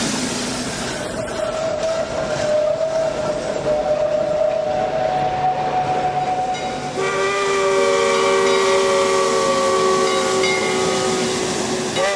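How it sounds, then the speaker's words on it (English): A Heisler steam locomotive backing up at Roaring Camp hisses and rumbles nearby, loud and continuous, with long sustained whistle tones sounding partway through. "Number 2 backs up to reassemble the train"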